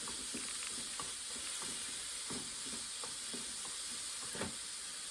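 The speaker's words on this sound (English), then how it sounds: "So please stir fry the carrot until it becomes wilted." Shredded carrot stir-fries in a pan for Japanese ninjin shirishiri, giving a soft, even sizzle with intermittent light stirring clicks and scrapes throughout.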